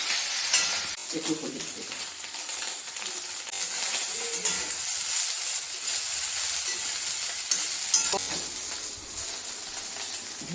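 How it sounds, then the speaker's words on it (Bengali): Soybean chunks stirred and frying in a little oil in a pan, a steady close sizzle with scraping stir strokes throughout, and a voice speaking briefly over it. "ওই জন্য একটু সোয়াবিনটা নেড়ে নিচ্ছি"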